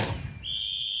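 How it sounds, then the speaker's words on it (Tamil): A whistle sounds at a political party's third anniversary celebration, a sharp, bright, sustained tone that cuts in after a brief noisy burst and holds steady to the end, loud and alone. "இன்று பறக்கும் நமது விசில் சத்தம்"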